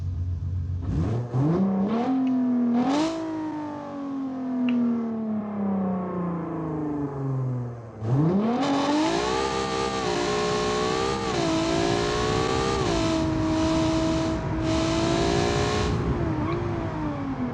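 Race car engine revving hard in BeamNG, pitch climbing through gears with a brief drop around the shift, then surging again and holding a loud, steady high whine for the rest of the run.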